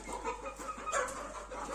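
Chickens clucking softly in a farmyard, a few short murmuring calls over a low steady hum, fairly faint and close.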